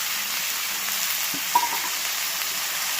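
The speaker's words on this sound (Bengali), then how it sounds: "দেখো পুঁই মিটুলিটাও ভাজা হচ্ছে, সব একসাথে ভাজা হচ্ছে।" Chopped Malabar spinach seed clusters and dried fish fry in a pan, a steady close sizzling hiss with one brief clink of a utensil partway through, and no voices.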